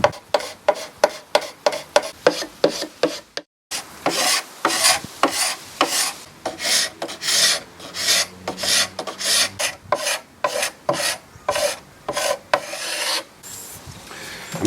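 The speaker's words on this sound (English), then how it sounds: "So I've got another scraper, I'll have a go with that." A hand scraper rasps across the rebates of a solid oak side table, stripping away old finish in quick rhythmic strokes, with a brief pause before longer, heavier scraping passes resume, close and loud.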